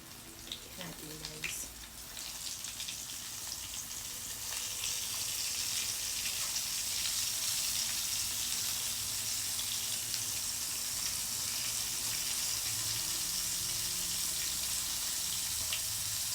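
Steady, dense sizzling of small coated tawilis freshwater sardines frying in hot oil, close and continuous, with a few faint clinks near the start.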